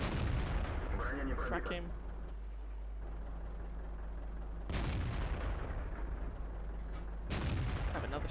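Two booming SU-100M1 tank gun shots in World of Tanks, each followed by a decaying rumble over a steady engine drone, with a short spoken line near the start.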